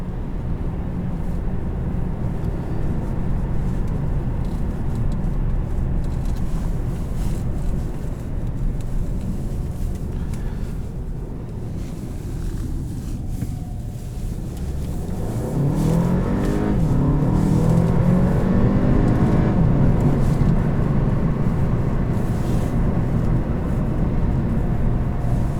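A 2018 Audi A3 Premium compact car with 258 lb-ft of torque and an entry-level dual-clutch gearbox drives with a steady interior engine drone, then accelerates hard in a rising, louder pull over its final stretch.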